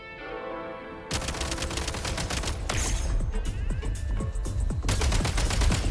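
Rapid gunfire in the video game Genshin Impact crackles in dense automatic bursts with sharp repeated shots, loud and continuous over a rumbling in-game background.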